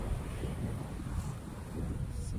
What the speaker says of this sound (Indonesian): sekarang ini angin kuat